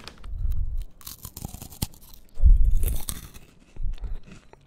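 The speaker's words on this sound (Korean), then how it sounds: "스틱을 꺼내서 먹어볼게요." Close, loud crunching and chewing of a crunchy carrot-themed stick snack for toddlers, a mild biscuit that breaks easily and melts, in three bursts of bites with scraping crackle between, no talking.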